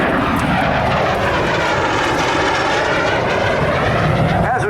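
A vintage F-86 jet warbird roars past loudly at a military air show, a sustained, rushing jet noise that swells and shifts as it passes with no voices over it.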